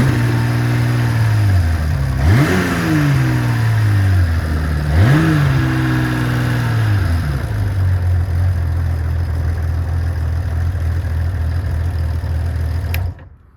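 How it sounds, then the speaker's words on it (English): A 1980 Honda CBX motorcycle with a ProLink clutch idles close by in a smooth, steady drone, blipped through two quick throttle revs early on before settling back to a quiet, even idle that cuts off at the end. "These things always sound like a clatter on these videos, but this is really a pretty quiet CBX"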